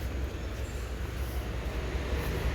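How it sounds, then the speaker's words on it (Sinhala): A train stands at Kosgama station on the Kelani Valley line before leaving for Colombo Fort, giving a steady, heavy low rumble that stays even throughout, with no talk. "තව චුට්ටකින් මේ ට්‍රේන් එක කොළඹ කොටුව බලා පිටත් වෙනවා."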